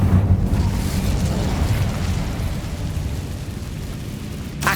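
A deep, rumbling fire burst from the Incendio spell in Hogwarts Legacy roars loudly from the start and slowly fades into a low crackling rumble, ending with a brief sharp snap.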